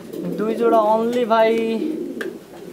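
Fancy pigeons cooing at a pigeon farm in Kushtia, a steady close warble of soft rolling coos under a voice speaking over them.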